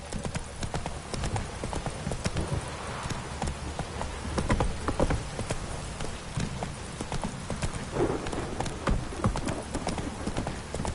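Roach the horse gallops in The Witcher game, with steady rapid hoofbeats and clip-clop over soft rain-like background noise, fairly faint overall.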